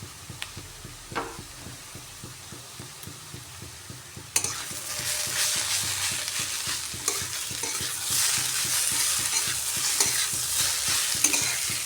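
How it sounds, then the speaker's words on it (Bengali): Prawns, kohlrabi and green chillies are stirred in a frying pan, with rhythmic spatula scraping over a gentle sizzle that turns louder and hissier partway through, close up with no voices. "সব কিছু দিয়ে ভালো করে মিশিয়ে নিচ্ছি।"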